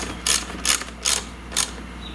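A ratchet wrench tightens the control panel bolts on a Duromax XP11000iH generator, four short, evenly spaced bursts of clicking, close and loud against quiet background.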